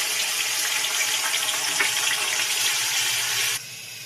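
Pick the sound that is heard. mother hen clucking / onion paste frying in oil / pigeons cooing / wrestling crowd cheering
onion paste frying in oil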